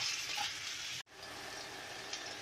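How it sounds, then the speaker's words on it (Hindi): Chicken pieces frying with garlic-ginger paste in a pan over high heat, a steady close crackling sizzle with a brief break partway through. "इसको मैं थोड़ी देर भूनूंगी लहसुन अदरक के साथ, थोड़ा सा इसका कलर चेंज हो जाएगा"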